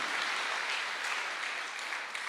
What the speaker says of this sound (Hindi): जोरदार तालियां होनी चाहिए इतनी शानदार संस्था के लिए।